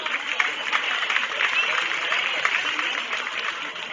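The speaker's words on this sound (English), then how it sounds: "Let's give them all a nice round of applause." An audience at a county fair goat show applauds steadily, dense, even clapping filling the whole stretch at a moderate distance, with a faint murmur of voices mixed in.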